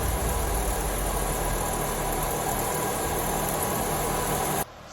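A 2006 Chevy Malibu gives off a steady, droning engine hum with a low rumble from the passenger side, running unchanged for several seconds before cutting off abruptly near the end.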